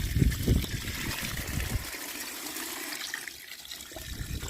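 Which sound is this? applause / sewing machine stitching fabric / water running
water running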